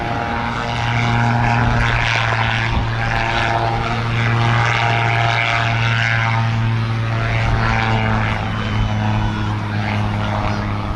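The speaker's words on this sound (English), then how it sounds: "I think the Calidus is one of the nicest of the gyrocopters that are out there." A Calidus gyrocopter flies past at an air festival, its propeller engine giving a loud, steady droning hum that holds throughout with a strong low tone.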